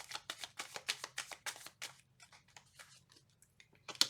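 Tarot cards being shuffled by hand, a quick run of crisp riffling snaps that slows into softer, scattered flicks before one last sharp slap, close and quiet.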